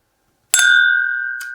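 Two whiskey glasses clink together in a toast during a bourbon tasting, a single bright ring that hangs and slowly fades, then a lighter second tap near the end.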